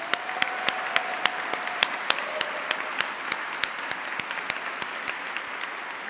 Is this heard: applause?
yes